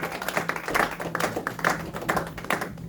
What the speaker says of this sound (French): Bien-aimés, acclamez pour nous.